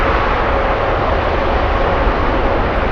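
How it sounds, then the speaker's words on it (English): A big United Airlines airliner inbound from Haneda arrives at LAX, producing a steady, loud, broadband jet roar that holds without a break. "And we have the big United Airlines coming in."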